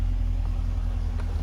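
A 2012 Dodge Challenger SRT8 392 with a 470 HP engine runs nearby, a deep, steady, rumbling idle with a throbbing low pulse heard briefly and alone.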